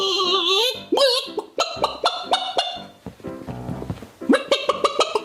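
A man imitates a chicken, squawking and clucking in loud, close bursts of varying pitch, with choppy breaks and a brief lower rough passage in the middle.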